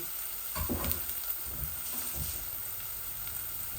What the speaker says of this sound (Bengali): আমি এখন লইট্টা শুটকিটাও দিয়ে দিচ্ছি।